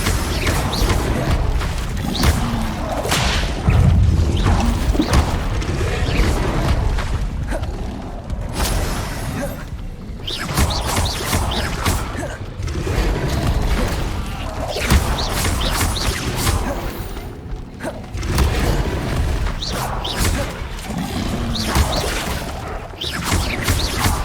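Incendio fire spell being cast in the video game Hogwarts Legacy, a busy stretch of repeated whooshing bursts and crashing impacts over a dense combat din, loud and continuous, with no talk.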